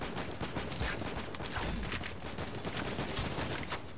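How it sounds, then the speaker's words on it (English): Fortnite gunfire: rapid bursts of shots crack in quick succession, loud and close, forming a dense fusillade with brief gaps across the whole stretch, no voices. "I shot a person out of the air."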